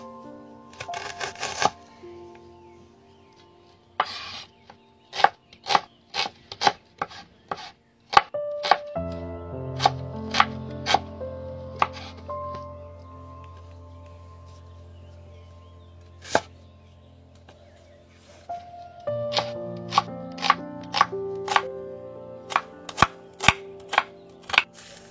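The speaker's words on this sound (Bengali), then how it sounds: "আর এদিকে হচ্ছে পেঁয়াজ কাটিং হচ্ছে" Onions are chopped with a knife on a board in sharp, repeated thwacks, in uneven bursts with pauses, over a low background hum.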